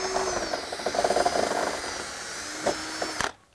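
Power drill with a 1/2-inch bit boring a hole for a gate latch, a close, steady whirring grind for about three seconds before it stops abruptly.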